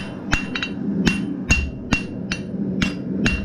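A blacksmith hammers metal while drawing out the finial end of a forged dinner bell, about eight loud, evenly spaced ringing blows over a low hum.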